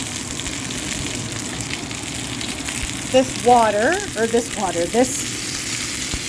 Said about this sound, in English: All right, these are sizzling away.